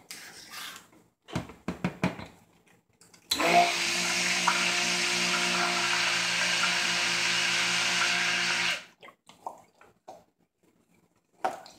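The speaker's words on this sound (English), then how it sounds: "I'm just going to use my stick blender for this." A stick blender whirs loudly and steadily for about five seconds, combining a mixture that will take kaolin clay and lye. Soft handling clatter comes before and after.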